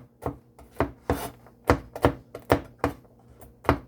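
Toasted walnuts chopped with a knife on a cutting board, about a dozen crisp, evenly spaced chops in a steady rhythm, close and clear with no talking.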